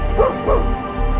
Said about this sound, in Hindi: सिर्फ चाय की केतली की सीटी और कभी कभार कुत्तों के भौंकने की आवाजें ही गूंज रही थी।